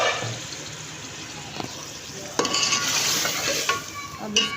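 Chicken for a pumpkin chicken curry sizzles and bubbles in a pan with added water while a spoon stirs it, with steady frying noise and sharper scraping bursts near the end.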